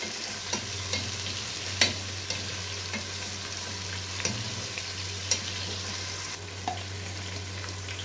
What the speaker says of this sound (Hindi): चिकन को अच्छी तरह से फ्राई करेंगे